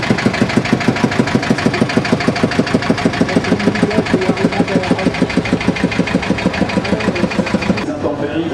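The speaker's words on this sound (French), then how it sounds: "le petit tracteur orange derrière" Small orange vintage tractor from a vanished brand running at a parade, a loud steady rhythmic thumping idle with fast regular beats, nearby and continuous.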